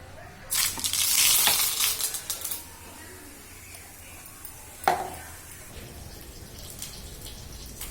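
Tempering spices hit hot oil in a home kitchen, giving a loud burst of sizzling spatter that fades within a couple of seconds, followed by a quieter hiss and one sharp clink.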